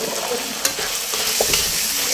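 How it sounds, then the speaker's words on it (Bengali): Onions frying in a pan while chicken khichuri is made at a family picnic, a brief loud hiss of sizzling with a couple of sharp spatula knocks. "এটা হলো ফ্রাই করা হচ্ছে এখন পেঁয়াজ"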